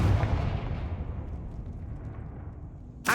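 In Hogwarts Legacy, a Confringo fire spell detonates in a heavy, booming explosion at the start, then its rumble fades away over a few seconds before a sharp new burst of sound at the end.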